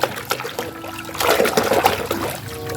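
Clean water trickles and splashes over muddy toy vehicles being washed, an uneven patter of dribbles and small splatters close by.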